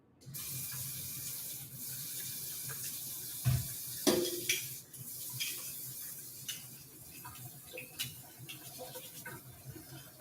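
Tap water runs steadily into a sink while a garlic press is washed under it, with a few clinks and knocks of the metal press against the basin over the hiss.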